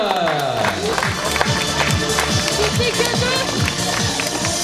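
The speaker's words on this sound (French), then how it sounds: "Allez, applaudissements, le podium des minimes" Crowd applause at a youth triathlon prize ceremony for the minimes podium, steady clapping and some cheering outdoors, mixed with music and an announcer's amplified voice.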